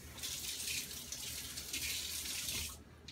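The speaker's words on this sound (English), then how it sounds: "So I'm gonna go right into the running water again." Steady rush of running tap water rinsing a 1095 carbon steel knife blade during a forced vinegar patina, continuous and fairly close, cutting off near the end.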